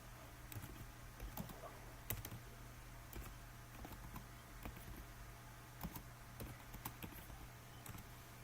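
Keys clatter on a computer keyboard in short irregular bursts of clicks against a low steady hum, with no voices.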